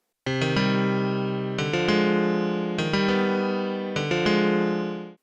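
A synth chord from the CodeFN42 Chords plugin in Reaper rings out four times in a strummed pattern, each hit rolling quickly through its notes and then sustaining, loud with no talking.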